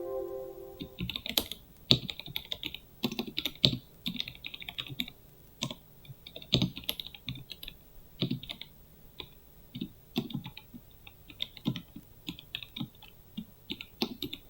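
Fingers typing on a computer keyboard, bursts of rapid key clicks with short pauses between words, close and clear with no talking.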